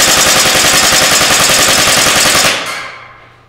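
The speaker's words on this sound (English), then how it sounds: "The 2-round burst sounds amazing." An airsoft gun fires in quick bursts, a loud, dense rattle of rapid shots that runs for about two and a half seconds, then cuts off and fades into a brief echoing tail.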